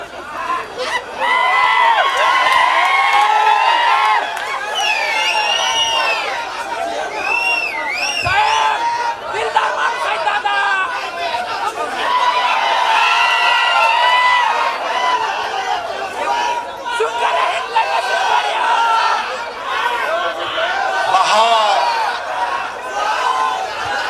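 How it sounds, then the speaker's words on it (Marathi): Large outdoor crowd at an election victory procession, a loud sustained mass of cheering, whooping and chatter with whistles and shouts rising and falling throughout. "तुमच्यामध्ये जो उत्साह आम्ही पाहतोय तुमच्यामध्ये जो जल्लोष आम्ही पाहतोय अशा मिरवणुका आम्ही तर पाहिल्या नाही"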